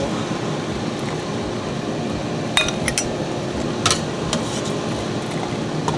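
Cooked items, with jalapeño mentioned nearby, are moved into a bowl during enchilada preparation, making a few sharp clinks of utensil against dish. Two short clusters of clinks sit over a steady background hum.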